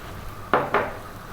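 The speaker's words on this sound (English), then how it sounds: "We're going to give that a mix." Pork ribs with soy sauce, salt and black pepper for Filipino adobo get mixed in a pot, with two quick, close scraping clatters of a utensil against the pot over a low background hum; no talking.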